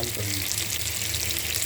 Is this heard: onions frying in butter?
yes